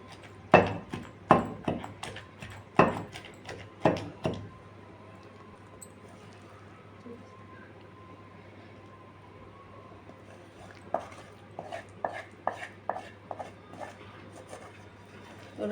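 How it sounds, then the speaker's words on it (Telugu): Gongura sorrel leaves and dried red chillies pounded in a stone mortar, a run of heavy close thuds at the start, then quiet, then a lighter burst of rhythmic knocks near the end. "ఇప్పుడు కొంచెం కొంచెం వేసుకొని దంచుకుందాం."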